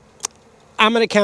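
A honeybee colony hums steadily in an opened hive during a January maple pollen flow in Jacksonville, Florida. The low buzz runs under a man's nearby speech.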